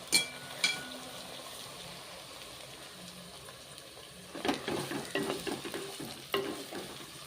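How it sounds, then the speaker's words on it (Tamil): Bitter gourd fries with onions in a pan under a faint, steady sizzle, broken by a couple of utensil clinks early on and then a longer run of scraping stir strokes, with no talking. "இப்போ வெங்காயம் நல்லா வதங்கிட்டு இப்போ பாவக்காய் போடலாம்."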